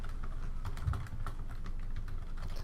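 Fingers typing on a computer keyboard in a steady patter of close, crisp key clicks, running continuously with slight pauses during a Dota 2 match broadcast.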